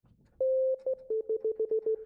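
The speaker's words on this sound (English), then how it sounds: "just makes a sine sound" Plain sine-wave synth tone from Reaper's built-in synthesizer, one sustained note followed by a quick run of short, evenly spaced repeated blips at a steady pitch, clean and alone.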